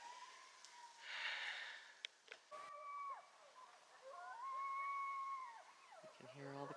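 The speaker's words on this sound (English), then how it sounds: "You can hear all the coyotes." Coyotes howl at night near a road, faint distant wavering cries that rise and fall in overlapping yips and long wails, with a soft background hush.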